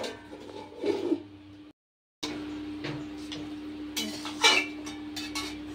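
A lid is set onto a kadai of mutton simmering with spices on a low flame, giving a few metallic clatters and clinks close by, with a short gap of silence before the utensil knocks resume.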